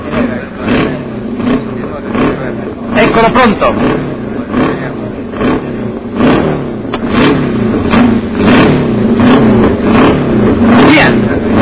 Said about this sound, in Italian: la macchina viene messa in moto a spinta